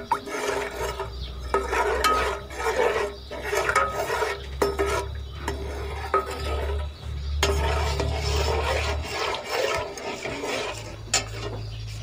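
Ghee with salt, chili and cumin stirred in a pot, a steady scraping and clinking of a spoon against metal running throughout, close and moderately loud with no voices.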